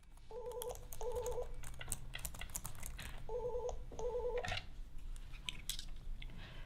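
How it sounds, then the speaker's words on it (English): A telephone rings in an office setting with four short electronic double-tone rings in two pairs, fairly faint over a steady background hum and light clatter. "The phone rings and Cinderella picks up the phone."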